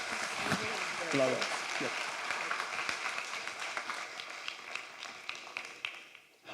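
An audience at a church service claps steadily in a broad round of applause that slowly thins out, moderately distant, while a couple of voices speak briefly over it.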